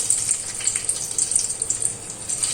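Whole spices sizzle in hot oil: black pepper, cloves, green cardamom, cumin seeds and a cinnamon stick hiss steadily and crackle finely in a close, continuous spatter with no voices over it.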